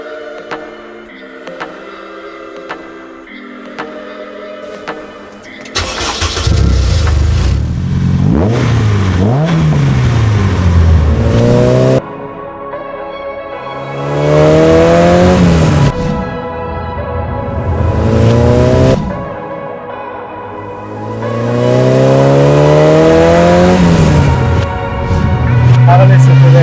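A competition Mini with a black leather interior pulls away, its engine revving hard through repeated rising gear pulls with brief drops between shifts, loud and close from inside the cabin, after a quieter idle stretch at the start.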